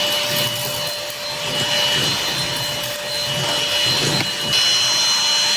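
A HAVATO cordless vacuum cleaner runs steadily on its high speed setting, a close, continuous whine with a rising pitch near the end, sucking up rice and debris from a floor.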